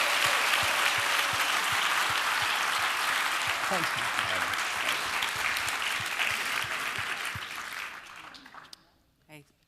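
An audience gives sustained, dense applause for an actor that fades out near the end, with a brief spoken word over it.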